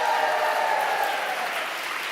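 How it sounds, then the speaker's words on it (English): Crowd at an anti-Trump town hall cheering and applauding for New York State Attorney General Tish James, a steady dense wash of clapping and cheers that tapers slightly at the end. "That is appropriately the biggest cheer so far"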